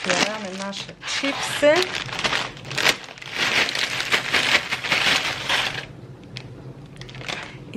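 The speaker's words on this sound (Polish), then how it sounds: "ten papier mm, tak sobie pogniotę" Paper is crumpled and crinkled right up close for several seconds, a loud crackling rustle, with a brief voice at the start.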